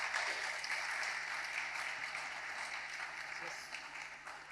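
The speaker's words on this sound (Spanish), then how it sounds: "Un aplauso" Steady applause from an audience at a talk by a chef at the Ñam Innova 2019 event, continuous clapping for several seconds with a faint hum beneath.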